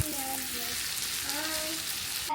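Vegetables frying in a pan for a home-cooked Filipino dinner, giving a steady, close sizzle with faint tonal scraping or stirring sounds running through it.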